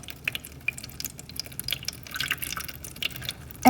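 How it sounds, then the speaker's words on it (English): Water is poured slowly and carefully from a pitcher into a hydroponics container, giving a faint, soft trickle with light dripping and splashing close by. No one speaks. "So I've got my pitcher of water here, and we just want to ever so delicately pour it in there"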